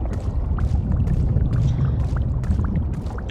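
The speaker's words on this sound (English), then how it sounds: "You hear that? Sounds like water." Water sloshes and laps in the video game Ghostwire: Tokyo, a steady low rushing bed with soft splashy knocks and ripples repeating throughout, fairly close, with no talking.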